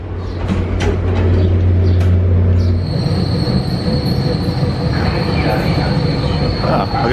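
A Tri-Rail shuttle train to Miami Central rolls through a station, loud and close, with steady rumbling and a high sustained wheel squeal.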